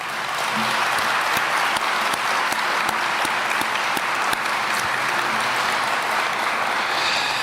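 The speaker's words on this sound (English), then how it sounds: "Let's give them a big round of applause." Loud, sustained applause from a crowd at a mayor's farewell address in San Antonio, dense clapping holding steady for several seconds with occasional sharper claps standing out.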